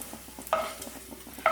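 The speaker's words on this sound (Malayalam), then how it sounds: "പനീർ എപ്പോഴും നല്ല സെപ്പറേറ്റ് വഴറ്റിയെടുക്കാം കേട്ടോ." Paneer is stirred and sautéed in a kadai. A soft, steady sizzle runs underneath, with light scraping strokes and two sharper metallic clinks from a spoon against the pan. No one speaks.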